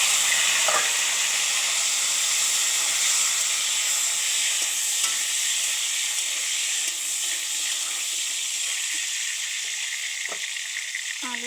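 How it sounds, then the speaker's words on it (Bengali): Potatoes fry in oil in a pan for chickpea curry, a bright, continuous sizzle with a few soft stirring knocks. "ছোলার তরকারি রান্না করার জন্য আমি আগে আলু ভাজি নেব"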